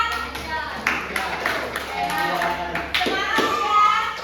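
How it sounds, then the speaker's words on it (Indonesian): A classroom group claps during a school career-guidance lesson, a burst of sharp hand claps with uneven rhythm that rises and falls over a few seconds, with faint children's voices mixed in. "Tepuk tangan dulu untuk kita semua."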